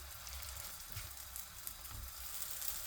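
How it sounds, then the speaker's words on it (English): Curry-stuffed Ceylon parotta rotis fry in a hot pan, giving a soft, steady sizzle with faint crackle, quiet and close with no talking. "We waited for the pan to heat up, and now we're just going to start frying them."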